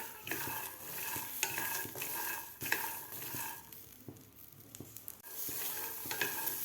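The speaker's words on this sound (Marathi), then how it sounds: "तर आपल्याला थोडेसे हे भाजून घ्यायचे आहेत दोन ते तीन मिनिट" Fresh pigeon pea beans roast in a pan, a faint, close sizzle broken by repeated scraping and rattling stirs of a spoon against the metal, in uneven bursts with brief lulls.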